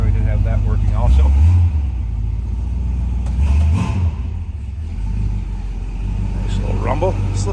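A 1963 Ford Fairlane 500 engine idles with a deep, steady rumble, briefly rising in low revs a couple of times, while someone talks over it.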